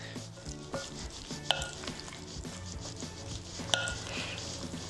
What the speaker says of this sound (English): Give it all a really good mix.